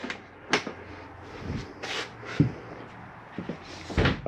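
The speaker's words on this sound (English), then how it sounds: "Walk the unit, make sure all the doors and drawers are closed." Cabinet doors and drawers being shut inside a 2022 Forest River XLR Hyperlite 3016 travel trailer, a series of fairly loud thumps and clacks at irregular intervals, nearby, with no speech.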